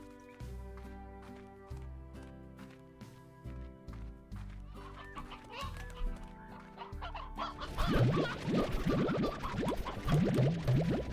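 Chickens clucking in the farming game Slime Rancher, a series of sharp repeated clucks over a light melodic game music bed, growing busier and denser with overlapping bird calls toward the end.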